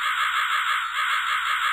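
A raven caws in the video game Rusty Lake: Hotel, a harsh, loud, continuous croaking call that holds steady and dips only briefly midway.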